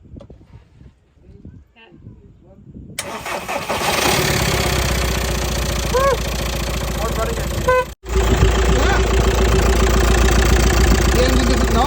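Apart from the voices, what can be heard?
VW T5 1.9 TDI diesel engine idling after crankshaft bearing repair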